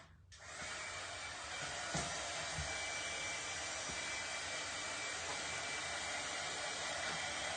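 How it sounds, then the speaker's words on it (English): A dryer blows steadily and loudly for several seconds while drying a Christmas paper craft tag, a constant close rushing hiss with only brief small bumps along the way. "I want to make sure that the tag is dry, okay? So let's go ahead and dry that."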